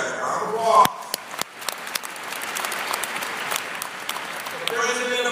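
A university crowd at a UMBC new-student gathering applauds a graduate, broad sustained clapping from many hands with a few sharper individual claps, mixed under a speaker's voice at the start and end.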